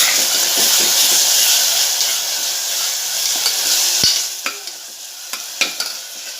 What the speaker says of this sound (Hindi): अब मैं इसमें हरा मसाला डालूंगी।